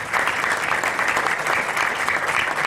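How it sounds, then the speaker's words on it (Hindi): Dense, loud crowd applause fills a Ludhiana meet-up hall, steady and continuous from a large audience. "एक जोरदार तालियां इनके लिए"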